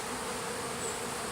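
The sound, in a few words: honey bees around a hive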